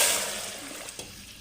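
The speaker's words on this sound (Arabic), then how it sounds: "بعد ما تقلى مليح بالخطيط ما يطولنيش، نضيفوا داك الماء والسكر اللي درتو هنايا" Sugared water hits frying meat in a pan for an Algerian sweet tajine, giving a loud hissing sizzle that rushes in at once and slowly fades, with a couple of small pops.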